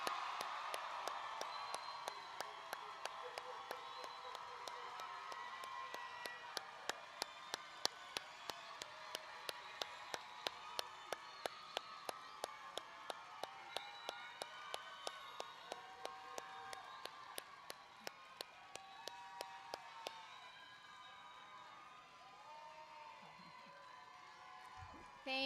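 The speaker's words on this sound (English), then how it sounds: "let's actually give them a really loud round of applause." Audience applause at a nursing pinning ceremony, a faint, steady run of rhythmic clapping under lively voices and some cheering, fading out near the end.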